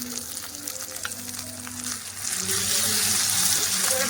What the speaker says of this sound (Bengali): এই চিকেনটা দিয়ে দেবো চিকেনগুলো দিয়ে ভালো করে কষে নেবো